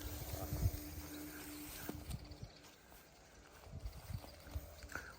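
A mare's hooves clip-clop at an easy walking pace, irregular but steady, fairly close, over quiet outdoor background.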